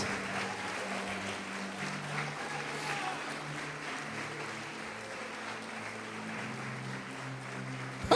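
A church congregation applauds during a sermon, soft, steady, distant clapping over a low sustained hum of organ or keyboard tones throughout.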